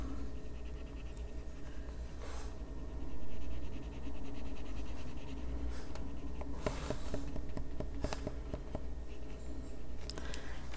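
Coloring pencil in a lime peel shade scratching steadily across the page of an adult coloring book, close and quiet, with soft continuous strokes and a few sharper scratches, no talking.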